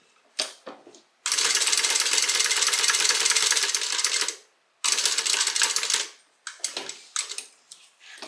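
Close by, a sewing machine rattles out two long continuous runs of stitching through bag fabric. Shorter bursts and handling knocks come between and after them.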